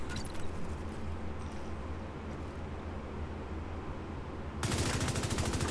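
Bighorn rifle fire in the Division 2 game: a rapid burst of sharp, evenly spaced shots rings out loud near the end, after a stretch of dense steady background noise.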